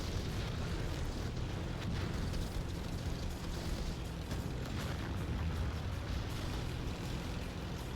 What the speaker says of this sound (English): ATGs continue to slam away at the base turrets